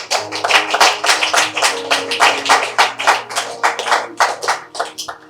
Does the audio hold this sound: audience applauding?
yes